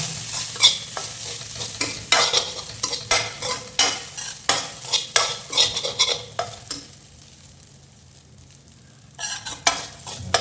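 Lemon rice sizzles gently in a pan on low heat while a spoon scrapes and stirs it in a quick, regular rhythm, pausing briefly before stirring resumes; close and clear with no talking.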